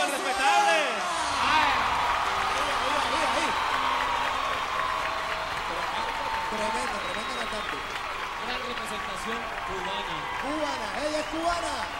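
Audience applause fills a live salsa concert, a dense steady wash of clapping and crowd noise running throughout, with band music and a voice over a microphone mixed in.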